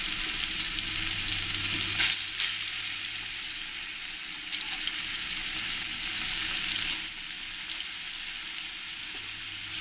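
Shol (snakehead) fish pieces frying in hot oil for a jhal curry, a loud, dense, continuous sizzle and crackle close by, with a few brief sharper spits and no talking.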